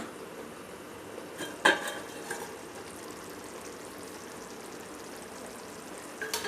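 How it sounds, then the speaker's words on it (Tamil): Quiet, steady bubbling simmer of garlic curry in a pot, with a couple of sharp metallic clinks of a lid or utensil. "நல்லா கொதிச்சிருச்சு பாருங்கள்."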